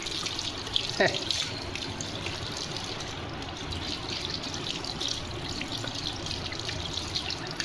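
Running water splashes steadily while a cat is bathed at a tank, a continuous close wash of pouring and sloshing with faint voices in the background.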